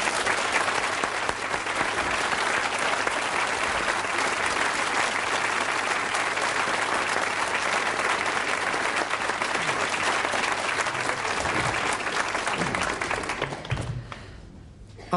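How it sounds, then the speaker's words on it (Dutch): Television studio audience gives sustained, loud applause welcoming a singer back in 1984, a dense steady roar of clapping that fades out near the end. "U geeft ze een applaus."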